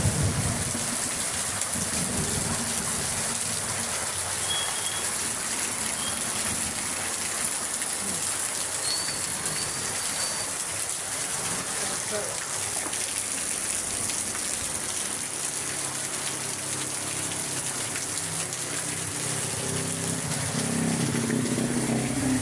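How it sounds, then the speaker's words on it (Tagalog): Heavy rain at night, a dense, constant roar of downpour hitting surfaces that stays loud and unbroken for over twenty seconds, with no voices. "Lakas, kanina pa yung ulan."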